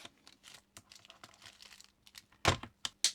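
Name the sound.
cutting a paper label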